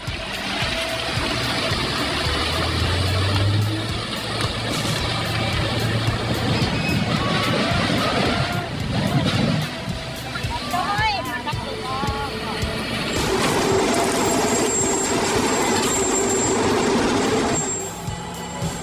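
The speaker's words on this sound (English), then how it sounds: "This Comtech Axe Store 8012 shredder is insane." Heavy Comtech Axe Store 8012 shredder chewing through huge piles of recycling material, a loud continuous mechanical roar and grind lasting the whole stretch, with a shift in tone partway through and a voice talking over it.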